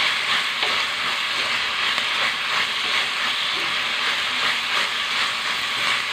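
Drumstick leaves sautéing in a pan for a rustic Kerala curry, a continuous close sizzle and hiss with light rhythmic stirring throughout, no one speaking.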